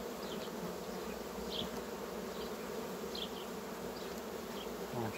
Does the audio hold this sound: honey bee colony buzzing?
yes